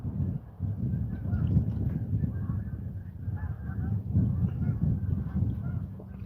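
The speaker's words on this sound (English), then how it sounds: "Wow, is that geese coming in?" A flock of geese honk as they fly in overhead at sunset, their calls blending into a dense, continuous clamor that stays fairly loud for the whole stretch.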